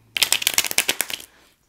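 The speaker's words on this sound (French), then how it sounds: "Je vais juste terminer ici de mélanger les cartes." Oracle cards being shuffled by hand, a quick close run of about a dozen crisp riffling flicks that lasts just over a second.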